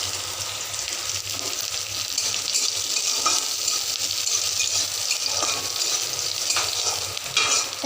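Garlic, ginger and chili sizzling in a modest amount of oil in a pan, a steady crackling hiss with occasional stirring scrapes and pops, close and continuous with no voices.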